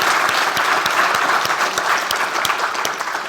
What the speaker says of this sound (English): Let's give them another round of applause just out of such appreciation.